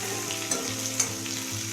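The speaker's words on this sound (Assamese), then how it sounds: "পিঁয়াজখিনি প্ৰায় ভাজা হৈছে, মই দিলোঁ ৰঙালাও চব্জিটো। ভালদৰে এইখিনি" Onions frying with rangalau pumpkin just added, a continuous close sizzle with a couple of sharp stirring clinks from a spatula against the pan, no one speaking.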